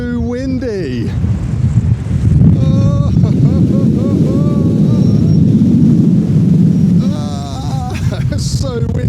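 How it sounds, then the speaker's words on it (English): Strong wind buffets the microphone on an exposed ridge hike along the Great Ridge near Mam Tor: a loud, continuous roar with gusts, while a hiker's voice calls out briefly in places. "It's so windy."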